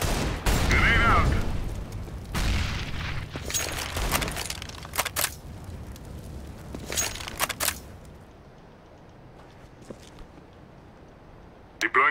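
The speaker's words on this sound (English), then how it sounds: "Grenade out." Grenade blasts in a tactical shooter: several sharp, loud bursts spaced over the first seven seconds, the noise settling into quieter background afterward, with voices talking between them.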